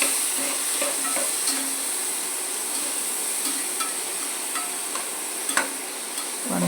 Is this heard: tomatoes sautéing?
yes